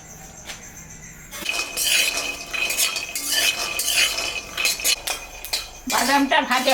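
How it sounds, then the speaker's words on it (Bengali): Peanuts frying in a hot kadai, with a steady rattling clatter of nuts and a spatula scraping and clinking against the metal, fairly loud and close after a quiet opening. "কড়াইটা গরম হয়ে গেছে, আমি এখন বাদামটা ভাজবো"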